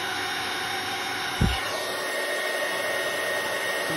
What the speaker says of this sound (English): I'm just going to heat up my gun